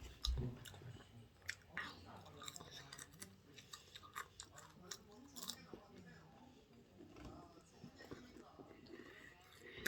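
Fried chicken is chewed close up, with soft wet crunches and smacking bites in an uneven rhythm, while a low voice murmurs now and then.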